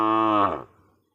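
A cow in a Bangladeshi village lets out a single loud, close moo lasting about half a second before it trails off into quiet.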